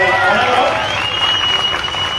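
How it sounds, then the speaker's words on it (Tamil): Crowd applauding firefighters at a political rally speech, a brief burst of dense clapping and cheering that stays loud and steady throughout. "நம்ம ஃபயர் ஃபைட்டர்ஸ்க்கு நல்ல கைத்தட்டல் கொடுங்க"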